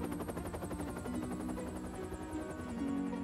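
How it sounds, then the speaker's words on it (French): A cartoon helicopter whirs in flight for the whole stretch, a steady rhythmic rotor buzz with no breaks, close and fairly loud, as a Christmas mail delivery heads for a town on the Thomas & Friends holiday special. "Très vite, le courrier est chargé dans l'hélicoptère et Harold met le cap sur la ville des Vicaires"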